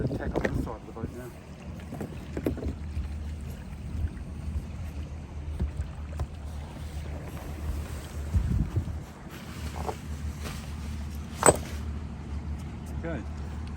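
Another motorboat passes near a sailboat on open water, a low droning hum under gusting wind buffeting the microphone, rising and falling slightly as it goes by, with a few scattered knocks and clicks aboard.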